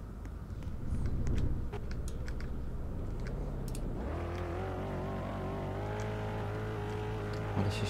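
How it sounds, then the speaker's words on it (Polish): A car in the Roblox game drives and slides, first with clicking keyboard taps and a low rumble, then a rising engine drone that settles into a steady revving tone as the car moves. "Ale się ślizga ten samochód."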